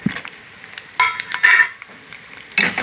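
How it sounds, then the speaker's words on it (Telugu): Garlic and cumin fry in oil in a pan while a spoon stirs and scrapes now and then, giving short bursts of sizzle and clatter close by. "ఇది కూడా కొద్దిగా ఫ్రై అవుతాయి వేగిపోతాయి"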